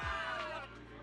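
Crowd cheering in the video game Zenless Zone Zero: a dense, continuous roar of many voices shouting and whooping with a bright music-like bed underneath, loud throughout the short stretch.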